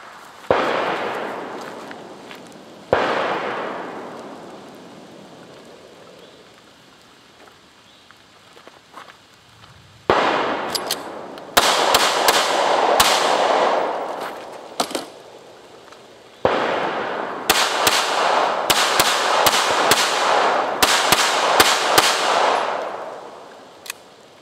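Sharp, loud gunshots from a Springfield XD subcompact 9mm pistol ring out in quick bursts and single shots outdoors, with echoing decay between volleys.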